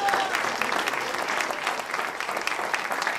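A theatre audience at a Cégep student performing-arts finale applauds the dance, a loud, dense and steady wash of clapping that holds throughout.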